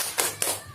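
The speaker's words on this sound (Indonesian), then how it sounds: "Kita tepuk semangat ibu ya, sesuai instruksi saya Bu ya." A group of women doing a rhythmic spirit clap in a training session, two sharp group claps in quick succession, close and moderately loud.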